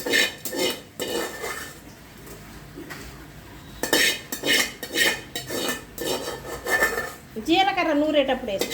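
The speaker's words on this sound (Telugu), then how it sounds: "ఎండుమిరపకాయలు ఇట్లా ఈ విధంగా వేయించుకుంటే బాగుంటుంది" Dried red chillies roasting in a pan are stirred with a metal spoon, giving repeated scraping and clinking strokes in short irregular bursts, close by, with a voice briefly heard.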